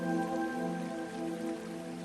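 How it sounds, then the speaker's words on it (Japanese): A soft, steady rain shower in the visual novel Senren Banka, a continuous gentle patter heard faintly beneath sustained musical tones, with no talking. "rain shower"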